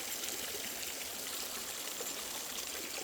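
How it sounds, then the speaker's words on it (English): Power washer water streaming steadily into a bucket while sediment is rinsed from gold-prospecting material, a constant broadband rush and trickle throughout. "with that power washer is because it's got a constant water flow into the bucket"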